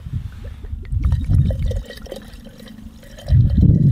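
Amundsen vodka poured into a mixed drink, a splashing, gurgling liquid pour with bursts of louder flow and a brief lull, close and alone with no talk.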